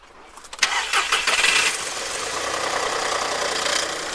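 A 60-horsepower engine cranks with a few quick turns, then catches and settles into a steady, close idle that runs on evenly with no talk.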